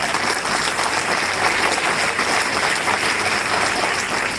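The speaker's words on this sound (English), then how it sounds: "let's all welcome each other with a huge round of applause" A large audience at a Model United Nations conference opening in India breaks into a huge round of applause, dense sustained clapping that stays loud and even throughout with no talking over it.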